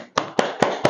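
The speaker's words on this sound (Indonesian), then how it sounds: "Tepuk tangan untuk kelompok 1." Applause for a student group in a madrasah class at an Islamic boarding school: a few separate, sharp hand claps spaced at a steady beat, fairly close.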